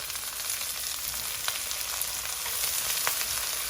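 Sliced leek and red onion frying over medium heat in a wok, a steady bright crackling hiss with occasional sharper pops, moderately loud and continuous, with no voices.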